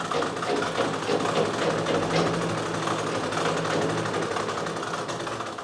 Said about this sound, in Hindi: चाहें तो पलटाने के बाद ऊपर एक सिलाई लगा सकते हो इस तरह से